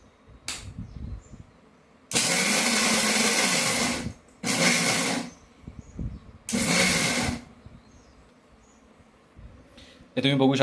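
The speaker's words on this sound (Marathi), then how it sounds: "आता शेंगदाणे मिक्सरमध्ये बारीक करून घ्यायचे." Mixer grinder whirring as it grinds roasted peanuts into a medium-coarse powder, running in three loud bursts of about one to two seconds each with short pauses between, plus a brief start at the end.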